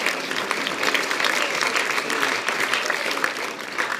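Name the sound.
congregation clapping hands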